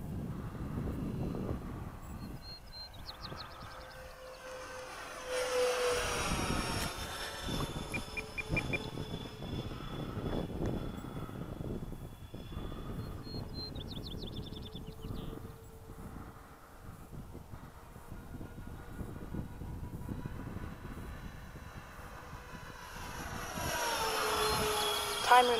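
A Freewing F-14 model jet flying just after takeoff on a morning flight, its ducted-fan whine rising and fading as it passes at a distance, with steady background noise throughout.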